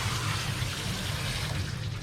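Steady running water from a bath tap rinsing a dog in a tub, a continuous close hiss with a low rumble and no voices.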